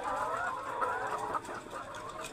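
Layer hens on a poultry farm holding about a thousand birds, giving a dense, mid-distance chorus of overlapping clucks and murmuring calls that stays steady and fairly soft throughout.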